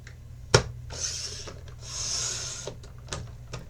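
A paper trimmer cuts a border strip from scrapbook paper. A sharp tap is followed by two soft, drawn-out slicing glides as the blade runs along, with light clicks and bumps around them, close and fairly quiet.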